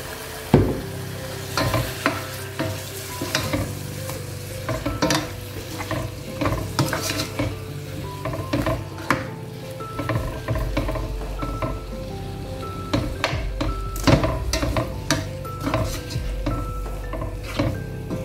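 A chili mixture moistened with a little water cooks in a pan over the heat, bubbling and sizzling steadily while a utensil scrapes and clinks against the pan in frequent close strokes.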